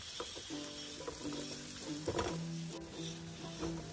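Minced meat keema fries in a pan with freshly pounded spices for a Newari keema egg dish, a close, steady sizzle broken by scraping stirring strokes and occasional crackles, with no talk.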